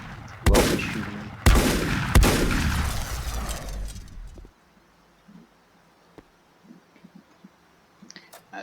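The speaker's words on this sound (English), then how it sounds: "Who else is shooting me?" Gunfire in the video game Volcanoids: three loud, sharp shot bursts in quick succession in the first couple of seconds, each with a ringing tail, then near silence broken by faint clicks.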